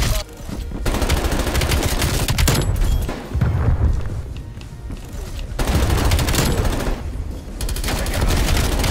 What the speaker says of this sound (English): Napalm strike